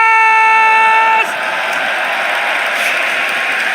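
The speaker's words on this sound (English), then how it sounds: "ladies and gentlemen, please give it up for Jonathan Whipples!" A large crowd applauds and cheers at The International Dota 2 event. The sound starts with sustained tones that cut off, then a dense, steady wash of clapping and cheering follows and holds to the end.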